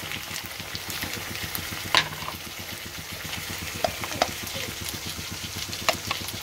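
Steady close sizzle of tomatoes frying in a hot pan for a paneer dish, with a low hum underneath and a few sharp clinks of a utensil against the pan.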